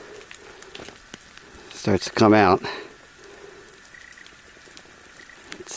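Melting snow drops and patters steadily from sun-warmed trees onto a spring snowshoe trail in the White Mountains, a soft constant patter all around while someone briefly speaks close by.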